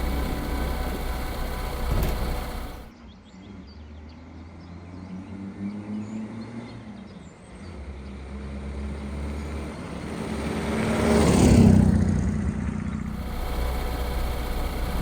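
A Regal 325 Super car engine hums steadily while driving, a low, even drone with a brief dip and a swelling rise in the middle, and no talking heard.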